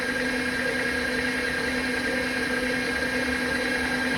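Metal lathe running at reduced RPM for a slow finishing cut while turning a ball peen hammer, giving a steady, continuous mechanical hum with a constant tonal whine and no talk.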